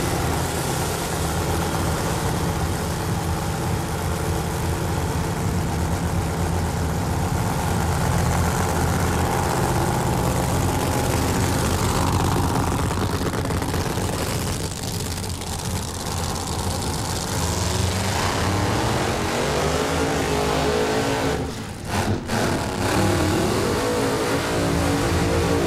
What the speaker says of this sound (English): Here come the Federal Mogul Funny Cars